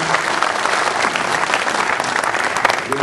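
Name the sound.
applause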